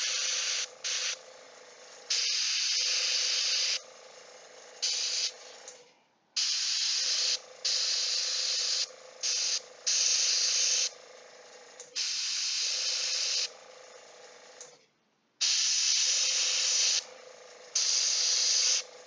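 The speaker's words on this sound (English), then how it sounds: "I'm afraid the airbrush is going to blow that ponytail right off." Airbrush spraying undercoat paint onto a miniature figure, a steady loud hiss in long bursts with brief pauses between passes.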